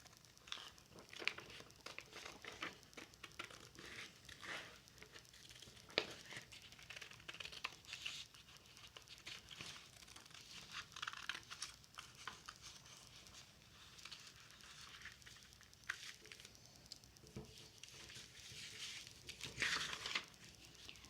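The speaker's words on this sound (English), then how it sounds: "So I'm gonna cut that off because that'll help me be more specific when I go back in." Scissors cutting a detailed shape out of paper, a steady stream of soft snipping and crinkling close by, quick irregular cuts continuing for about twenty seconds with no talking.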